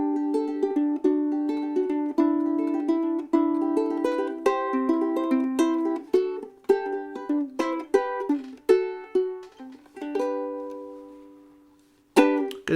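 Ukulele fitted with fluorocarbon strings, finger-picked in a steady run of plucked single notes and small chords, each ringing briefly before decaying, close and clear with no talking.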